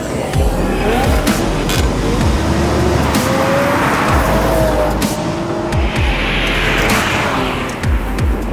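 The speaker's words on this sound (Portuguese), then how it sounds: "Trouxe o Tesla aqui pra gente acelerar." A Tesla car accelerating hard, loud tire squeal and skidding mixed with road noise as it pulls away, continuous and close, no voices.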